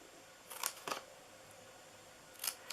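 Scissors snipping the sides of a paper treat box, three crisp close cuts in two quick snips then a third, alone in a quiet room.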